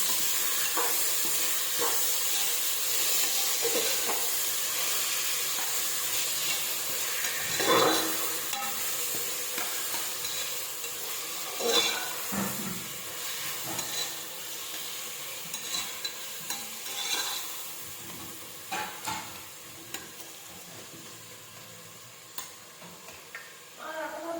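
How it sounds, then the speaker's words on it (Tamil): Chopped onions and tomatoes sauté in a pan for a Chettinad chicken biryani, sizzling steadily while a spoon stirs them. Occasional scraping and tapping strokes cut through the constant frying hiss, and nobody speaks. "தக்காளியை நல்லா வதக்கணும்."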